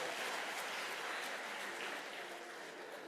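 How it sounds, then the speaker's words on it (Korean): A congregation at a Korean church dedication service claps steadily and continuously, a dense wash of applause that fades slightly toward the end with no voices over it. "박수 한번 쳐주시죠"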